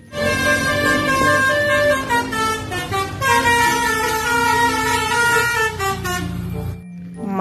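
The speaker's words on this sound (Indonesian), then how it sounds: "Mobil bus telolet." A toy telolet bus horn plays a loud, continuous multi-tone melodic tune for about seven seconds, its bright harmonic notes shifting in pitch before cutting off near the end.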